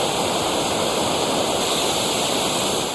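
Floodwater after heavy rain in China rushes in a loud, steady, continuous roar that fills the whole moment, with no voices.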